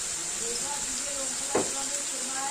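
Turmeric, coriander and cumin powder frying in hot oil, a steady bright sizzle and hiss with a short stirring scrape midway, while a voice talks softly over it.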